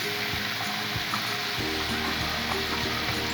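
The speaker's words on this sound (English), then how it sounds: "Time we are going to put the onions." Onions dropped into spiced beef mince frying for Kenyan beef samosas, a loud, close, continuous sizzle with a sudden swell as they hit the pan and light stirring underneath, no talk.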